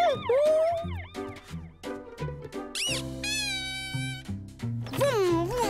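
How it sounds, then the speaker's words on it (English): A rising and falling electronic siren wails from a toy amid squeaky chirps and tonal beeps, loud and close, with a voice speaking at times. "It's got a siren!"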